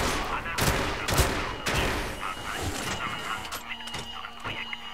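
Pump shotgun firing in the video game 007 Legends: several loud, sharp blasts close together near the start, then scattered fainter shots and game noise over a steady background.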